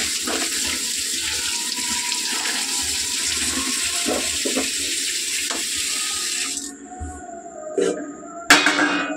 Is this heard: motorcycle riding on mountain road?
no